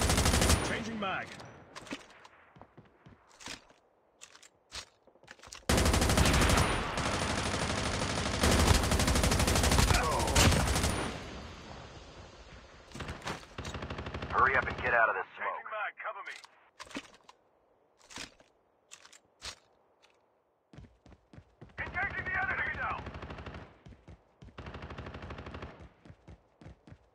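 Bursts of M4 LMG machine gun fire from a 100-round weapon in a shooting video game, loud sustained automatic volleys around the middle with shorter separated bursts and single cracks spread across the rest.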